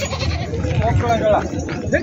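Goats bleat amid a crowded outdoor goat market din, with overlapping voices and chatter throughout.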